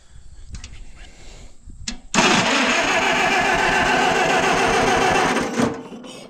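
A car engine with suspected faults cranks briefly, pauses, then catches and runs loudly and steadily for several seconds before cutting off, with faint mechanical clatter in the early cranking.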